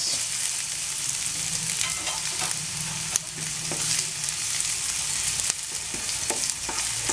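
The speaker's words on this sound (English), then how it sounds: "So let the capsicum also fry for 2 to 3 minutes." Green capsicum frying in a pan for a Chinese-style baby corn starter: a steady, close hiss of sizzling oil with scattered scraping stir clicks throughout, no voices.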